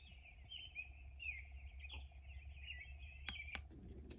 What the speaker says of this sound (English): The 18th is singing birds.